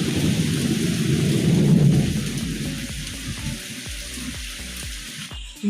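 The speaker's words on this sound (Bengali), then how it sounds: "এই দেখো না কি পরিমাণে বাজ পড়ছে।" Heavy rain pours steadily while deep thunder rumbles loudly in the first half, fading into a rolling, distant growl under the continuing downpour.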